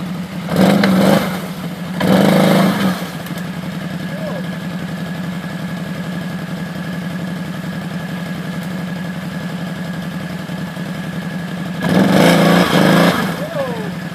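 Can-Am and Arctic Cat 1000 side-by-sides fitted with snow tracks idle with a steady mid-pitched engine rumble, rising in two short bursts of revving near the start and again near the end, with voices talking over it outdoors in winter.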